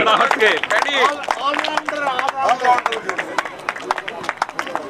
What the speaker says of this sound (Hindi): जोरदार तालियां पदम भाई के लिए।